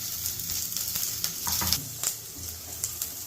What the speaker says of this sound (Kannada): ಇವಾಗ ಬಿಸಿ ಎಣ್ಣೆಗೆ ನಾನು ಈರುಳ್ಳಿನ ಹಾಕ್ತಾ ಇದ್ದೀನಿ